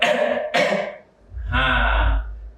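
A person demonstrates throat clearing and coughing as symptoms of an airborne illness, voicing the sounds deliberately. Two rough, close bursts come first, then a pause and a longer raspy clearing.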